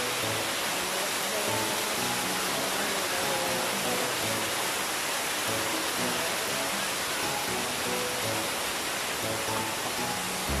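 Pityak Falls in Dumanjug, Cebu, heard up close on a river trek as a continuous broadband roar of falling water, steady and even throughout with no voices.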